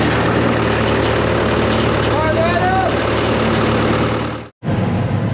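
A tractor's engine runs steadily after a jump start with cables and ether, a continuous low, rough rumble close by that cuts out abruptly near the end and then resumes.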